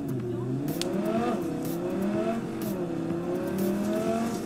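Car engine revving and accelerating in Cyberpunk 2077 gameplay, a steady loud motor drone with rising and falling pitch sweeps and brief tire noise, continuous through the stretch.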